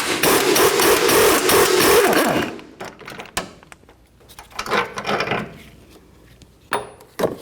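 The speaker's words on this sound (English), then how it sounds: "Now with a 21mm socket, we'll take this bolt out." Bolt on the rear upper control arm of a 2007-2014 Cadillac Escalade worked loose with a 21mm socket, a loud sustained rasping ratchet-like burst for about two seconds, followed by scattered fainter clicks and knocks.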